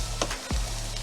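Softening onions fry with sausage in a pan, a soft steady sizzle broken by a couple of brief scraping stirs.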